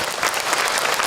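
Audience applause for a speaker at an Islamic sermon and Q&A gathering: a steady, dense patter of many hands clapping at moderate volume, filling the whole short stretch without pauses.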